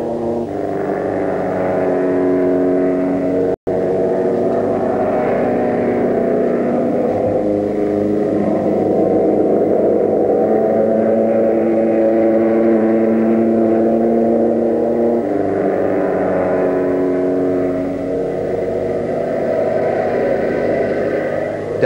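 Vintage racing cars, including a Bentley Napier and a Bugatti, run on a shortened circuit at a 1975 club meeting, giving a steady, droning engine roar that swells and eases as the cars pass.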